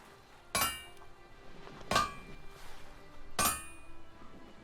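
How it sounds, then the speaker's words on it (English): Three ringing metallic hammer strikes, spaced about a second and a half apart, from a smithy animation in the video game ELEX II, clear and close over a low background hum. "always having like a double tap of the hammer sound? And the smithy animation."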